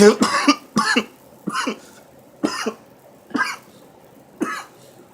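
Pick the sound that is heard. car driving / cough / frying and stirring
cough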